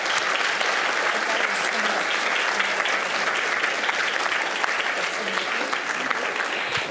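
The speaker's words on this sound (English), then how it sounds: "let's say congratulations to them with a round of applause" Audience applause for theater students at a school district board meeting, a dense steady round of clapping from a roomful of people, sustained and even throughout.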